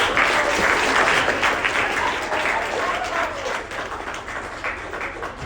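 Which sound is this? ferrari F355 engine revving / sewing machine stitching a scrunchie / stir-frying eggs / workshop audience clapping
workshop audience clapping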